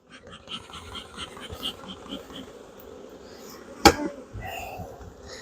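Honey bees buzz faintly around hive frames while queen cells are being raised, a soft irregular droning with a sharp knock partway through, and it is heard without talk.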